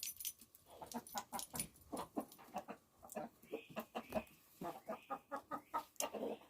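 Backyard chickens, a flock of brown, light brown and white hens, cluck and peck at a treat, giving a steady close run of short rhythmic clucks and pecking taps with no talk.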